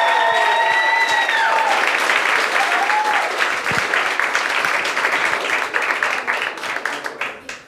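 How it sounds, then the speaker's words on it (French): A large audience applauds loudly, dense clapping with a few whoops and cheers, gradually fading toward the end. "Mesdames et messieurs, un tonnerre d'applaudissements pour Philippe Saint-Pierre!"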